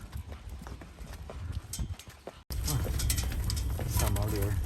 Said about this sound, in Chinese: 坐驴车前往景区出口